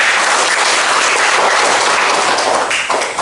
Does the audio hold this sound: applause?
yes